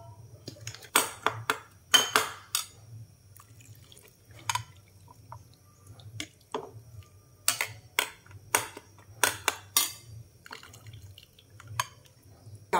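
Silver carp being scooped out of a pot and mashed in a home country kitchen, with scattered clinks and scrapes of utensil against cookware and wet dripping, irregular and close, over a low steady hum.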